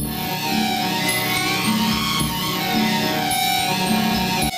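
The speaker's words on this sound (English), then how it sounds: "So if you combine the two into sodium fluoride," Sonified tone of sodium fluoride, a steady synthetic drone of many layered sustained pitches with high shimmering partials, continuous and fairly loud throughout with no voice.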